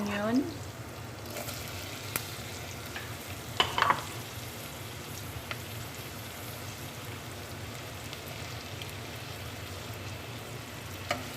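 Garlic and onion sautéing in a pan, a steady close crackling sizzle with occasional sharp clinks of a utensil, while a voice talks softly over it.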